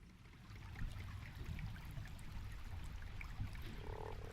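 A frog croaks in the video game Fables from The Den, low repeated croaks over a steady bed of trickling stream water, with a faint higher chirp near the end.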